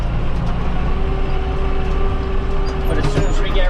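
A tractor engine labours uphill while held in a lower gear at higher revs, giving a loud, steady, close diesel drone with a faint tonal whine running through it.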